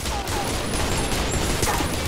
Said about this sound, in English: Stop shooting it, Travis.